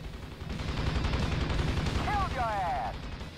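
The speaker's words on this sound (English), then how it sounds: "Fire the machine gun." A helicopter's machine gun in the Thunder Wolves video game fires as a fast, rattling stream of rounds that stays loud and continuous for about three seconds, with a short voice-like chirp near the end.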